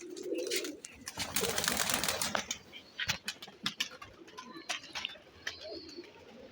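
Sialkoti pigeons coo softly in the background while a brief rush of wing flapping comes through, followed by scattered tapping and rustling nearby.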